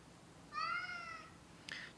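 A pet cat named Tuco gives one clear, drawn-out meow near the microphone, followed by a short, sharper chirp-like second call a moment later in a quiet room.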